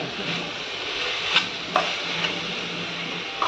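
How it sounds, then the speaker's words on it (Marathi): Potato filling for vada pav being sautéed in a pan, a steady soft sizzle and rustle with a few light knocks of the spoon, close by and without voices. "म्हणून आपण छान परतून घ्यायचं"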